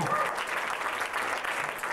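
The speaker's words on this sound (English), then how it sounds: "Let's give him another round of applause." A jazz conference audience claps in a sustained, dense round of applause after a school jazz band's performance, with voices mixed in.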